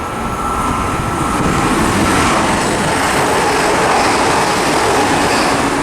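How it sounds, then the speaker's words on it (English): A Greater Anglia Class 360 electric train passes through Romford station, a loud, close, continuous rumble and rush of wheels on rails filling the whole stretch. "Also passing through, we've got a Greater Anglia service,"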